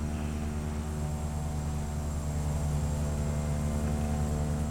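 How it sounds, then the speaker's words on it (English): A propeller aircraft engine in Flight Simulator X runs at high RPM, a steady loud droning hum with a strong low harmonic buzz that holds constant and swells slightly toward the end, with no talk. "we'll go ahead and increase our propeller RPM to almost full"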